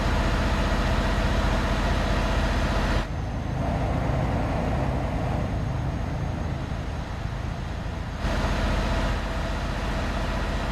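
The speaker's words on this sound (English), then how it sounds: "it's so loud from this engine. All the engines behind are very loud." Loud, steady engine roar from several race cars in a racing video game, a continuous droning rumble with a brief dip in the middle, no talking.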